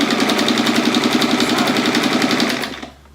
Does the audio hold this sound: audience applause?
no